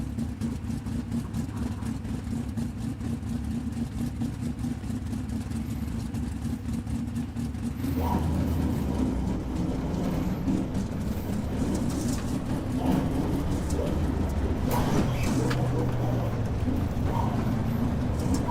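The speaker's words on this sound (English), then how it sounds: "you might hear a little bit of noise, but that is the powerful SCN6 actuators working their magic" SS-D2 motion simulator's SCN6 actuators working during an iRacing sprint car race, a continuous mechanical hum and rattle mixed with engine drone, getting rougher and busier partway through, with no talking.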